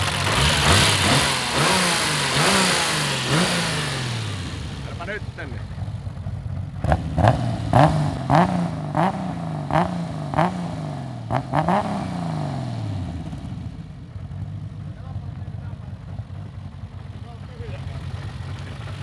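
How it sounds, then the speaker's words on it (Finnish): A turbocharged BMW S38 inline-six runs outdoors in a yard, repeatedly revved in short rising-and-falling bursts with sharp snapping pops between them, then settles into a rough idle. A brief voice speaks over it. "käytiin sitten ihmettelemässä S38 turboa pihalla"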